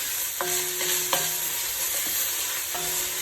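Celery stalks and leaves being stirred in oil in a soup pot, a steady close sizzle with a few distinct scrapes and knocks of the spoon against the pot, with no talking.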